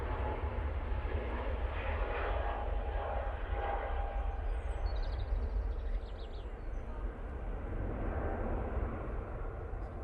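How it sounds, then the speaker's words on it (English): An easyJet Airbus A320neo on its take-off roll at Manchester Airport makes a steady, moderately distant jet rumble lasting throughout, with faint voices at times. "easyJet now on the roll using an A320 Neo."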